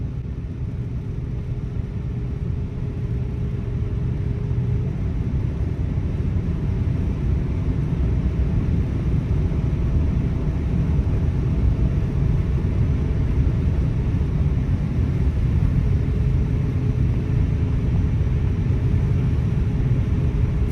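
A car cruising up a hill with cruise control engaged gives a steady, loud low rumble of road and engine noise that holds constant throughout with no voices.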